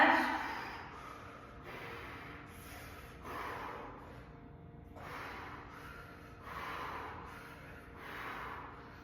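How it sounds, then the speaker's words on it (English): Slow, steady breathing during a qigong exercise, soft inhales and exhales in a regular rhythm of several breaths, close and quiet with no talking. "About 5 more breaths"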